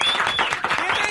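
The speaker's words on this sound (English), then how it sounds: "Let's give you a big round of applause for being here." A radio morning show studio audience applauds with steady, dense clapping, with cheering voices mixed in throughout.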